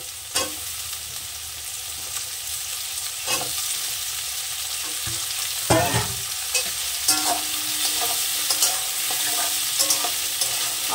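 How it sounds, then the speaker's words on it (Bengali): Potatoes and onion fry in a pan, giving a close, steady sizzle broken by repeated scraping and clinking as they are stirred, with no voices. "আলুটাকে একটু কষে নেব।"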